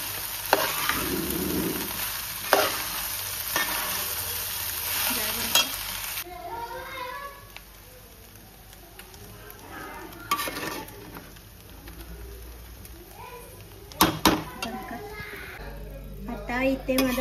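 Vegetable pulao ingredients being mixed in a pan, with a steady scraping and stirring texture and a faint sizzle, interrupted by a few louder clatters; a voice is heard in the background.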